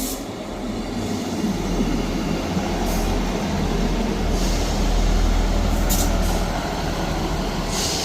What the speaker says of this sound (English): Arriving in now is the 11:37 Scotrail service from Leven to Edinburgh Waverley